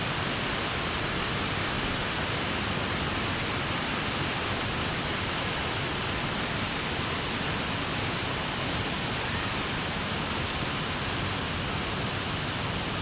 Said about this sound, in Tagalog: Yan ang sa baba ng falls mga kabayan.